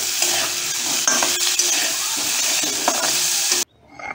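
Small winter potatoes frying in a pan with little oil while being stirred with a spatula: steady close sizzle broken by scraping stirs, ending abruptly in near quiet.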